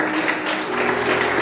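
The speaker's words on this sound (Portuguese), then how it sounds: "Você pode aplaudir mais uma vez?" A church congregation at a family gathering applauds in a continuous, fairly loud wash of clapping with a faint steady hum beneath.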